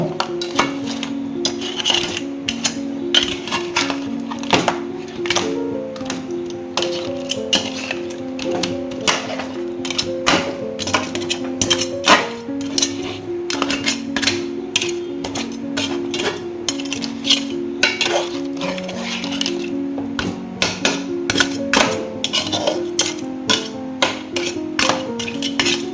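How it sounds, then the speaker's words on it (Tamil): Crab being stirred with masala in a pan for grandma-style pepper crab, a busy run of rapid metallic taps and clinks from the spoon against the pan, steady and fairly close, with music playing underneath. "நண்டு நம்ம ஆட் பண்ணி நல்லா மிக்ஸ் பண்ணிக்கலாம்"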